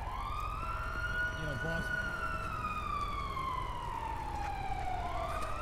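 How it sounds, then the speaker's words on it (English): In Grand Theft Auto Online, an ambulance siren wails in long, rising and falling sweeps from a moderate distance while someone speaks briefly over it. "There's an ambulance peeling away from Pillbox, so I can't be too far away from it."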